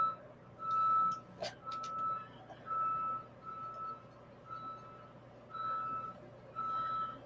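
Evenly spaced reversing beeps from a truck outside, fairly faint and distant, sounding in a steady series of about seven tones over a low background hum.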